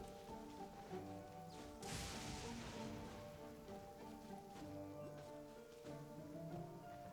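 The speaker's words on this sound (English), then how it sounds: "There's lightning and there's rain" Rain falls steadily in the video game Genshin Impact, a soft patter under a looping musical background, with a sudden crackling burst of thunder near the two-second mark, quiet overall.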